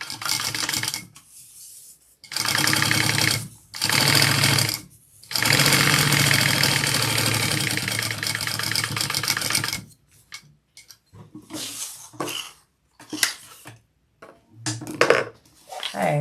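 Sewing machine top stitching canvas onto a lining, running in several loud sustained bursts separated by short pauses, then a stretch of quieter, choppy stops and starts and handling noise.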